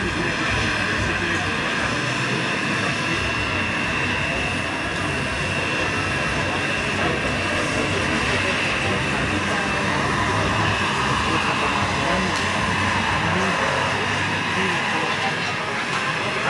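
A JetCat turbine engine runs on a model helicopter with a five-blade rotor head, giving a smooth, continuous, fairly loud whine with a steady airy roar that holds even for the whole stretch.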